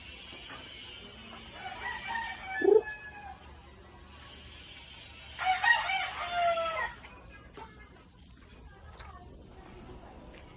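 Backyard chickens and roosters sound off at a moderate distance, with two drawn-out crows and scattered clucks over a quiet outdoor background, no talking.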